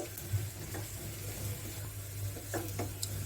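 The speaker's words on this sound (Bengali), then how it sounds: "পেঁয়াজগুলো আরেকটু সময় নিয়ে লাল করে ভাজবো।" Onions frying in hot oil in a home kitchen while a chicken bhuna is made, a low, steady sizzle with a few soft stirring scrapes throughout and no talking.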